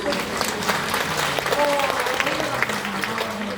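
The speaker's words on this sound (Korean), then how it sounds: "박수 한번" An audience at a lecture claps together in a short, dense burst of applause, steady and moderately loud, with a faint voice underneath.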